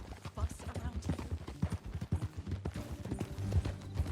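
Horse hooves clip-clop at a steady walking rhythm in Red Dead Redemption 2, close and fairly loud, running beneath voices talking and a low musical bed.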